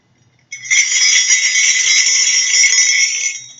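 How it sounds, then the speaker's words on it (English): A little jingle bell starts shaking after a brief pause and keeps up a sustained, close, bright metallic tinkling for about three seconds before stopping, with no talking. "Can you hear the jingle of the bells?"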